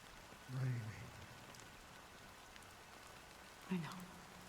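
Steady rain falling in the game Honkai Star Rail, a soft constant patter of drops on surfaces, with two brief voice-like sounds rising above the rain.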